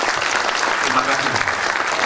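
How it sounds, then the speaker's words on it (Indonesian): Applause from an audience at a political discussion event, a steady dense wash of clapping lasting the whole stretch, fairly loud and even. "Tepuk tangannya tidak usah panjang-panjang"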